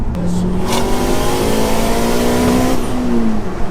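A modified Honda Civic Type R running on low boost, with a limited-slip diff, revs hard under acceleration, its engine note climbing steadily for several seconds, loud and close with no talk.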